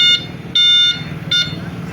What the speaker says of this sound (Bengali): ব্যাকে দিলে এরকম সাউন্ড হবে